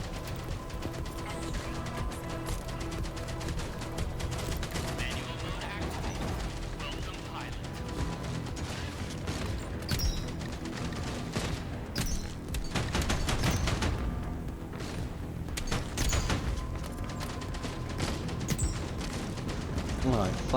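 Gunfire in the Outpost Infinity Siege game rattles in dense, repeated volleys and sharp bursts, with turret fire and crashes layered through a busy, continuous battle soundscape.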